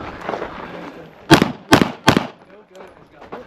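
Three loud, sharp pistol shots from a Springfield Prodigy during a USPSA classifier stage, fired close by in quick succession over outdoor background noise, with faint voices around.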